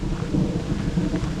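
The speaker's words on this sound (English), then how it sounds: "the rain has come." Rain begins falling steadily during a thunderstorm on a hiking trail in Pennsylvania, with a low rumble of thunder rolling underneath the patter.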